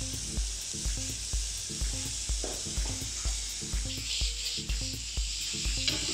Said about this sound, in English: I'm going to pop these mushrooms into a pan quickly.